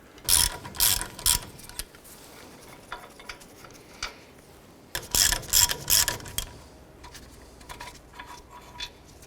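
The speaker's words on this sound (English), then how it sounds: "Using a 21mm socket, remove this bolt and this bolt here." A ratchet turns a 21mm socket on the front brake caliper bolts of a 2004-2009 Dodge Durango, giving two bursts of rapid clicking separated by quiet, with scattered single ticks afterward.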